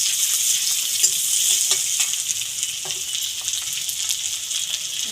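Sliced onion petals frying in hot oil, a loud, dense, continuous sizzle with faint crackles and stirring ticks scattered through it.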